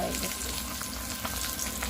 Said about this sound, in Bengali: এই যে আমাদের মাছের ভাজা হচ্ছে কড়াইটা